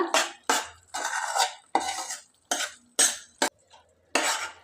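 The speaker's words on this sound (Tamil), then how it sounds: "ஸ்டவ் ஆஃப் பண்ணிவிட்டு நல்லா கலக்கி விடுங்க" Spoon scrapes and knocks against a kadai as mango thokku pickle is stirred with the stove off, several separate bursts of clattering metal with short pauses between, close and clear, no talking.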